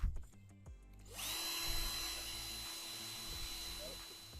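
A power drill bores a hole into a wooden picture frame, whining up steadily and holding a loud, close, continuous drone after a few faint taps.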